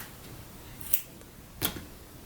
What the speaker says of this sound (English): let me trim off all this excess